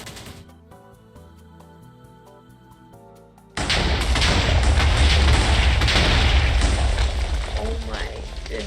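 A Minecraft erupting TNT from a TNT mod goes off after a few seconds of quieter game music, then a loud, sustained rumbling blast roars on to the end.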